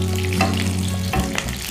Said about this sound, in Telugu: నెక్స్ట్ ఇప్పుడు పచ్చిమిర్చిని వేపుతున్నాం.